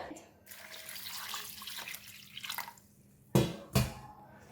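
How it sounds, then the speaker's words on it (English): Running tap water splashes over prawns being rinsed in a sink, with irregular trickling and two sharper splashes near the end, close by. "I will quickly wash the prawns and rinse the prawns with water."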